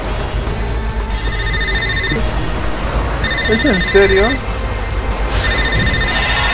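In a video game, a mobile phone rings from inside a stone statue, a repeating electronic ringtone in bursts over continuous background ambience, while someone speaks briefly.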